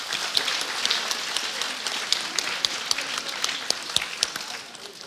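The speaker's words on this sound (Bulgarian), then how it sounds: "Моля аплодисменти за всички тях." An indoor concert audience applauds the competition participants, a steady, moderately close patter of many hands clapping with sharper individual claps poking through, easing off slightly at the end.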